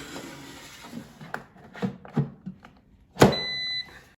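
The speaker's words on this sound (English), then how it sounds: "now carefully put the air fryer basket back in the air fryer" An air fryer basket, with an egg cracked onto toast inside, is pushed back into the air fryer with a single firm clunk, followed by a short electronic beep tone after several softer handling knocks.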